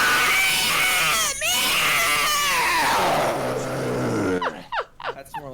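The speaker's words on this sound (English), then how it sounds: "That's more like a CSA scream." A person lets out a long, harsh, raspy black metal style scream, strained and loud for several seconds, then breaks off into a few shorter gasping vocal bursts.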